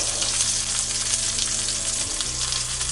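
Salmon fries in a cast iron skillet with a steady, close, loud sizzle and crackle that holds constant throughout, with no voices.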